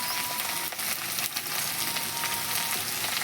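Chopped chilli, ginger and tomato with turmeric powder fry in hot oil, making a steady, dense sizzle that stays close and loud throughout with a few soft stirring scrapes.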